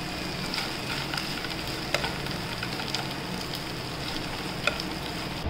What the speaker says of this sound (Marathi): आता आपण शेंगदाणे भाजलेले आपण त्यातून थोडे परतून घेऊया.